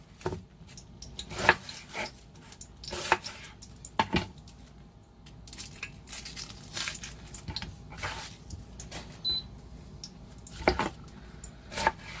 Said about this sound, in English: Let's work on our vegetables faster. Cut it in half.